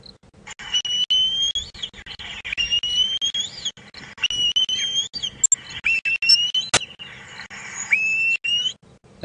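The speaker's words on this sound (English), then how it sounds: "A lot of birds of prey have got that very distinct sort of shrilling call" Bird of prey on a South African safari drive giving shrill, high whistling calls, repeated and sustained over faint background noise.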